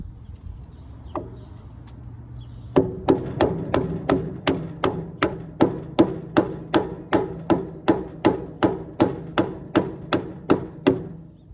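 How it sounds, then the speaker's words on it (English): A hammer strikes a wooden block on a trailer wheel hub about twenty times in a fast, steady rhythm, each blow a sharp, ringing knock. "put that block of wood right there before I hit on this thing with the hammer"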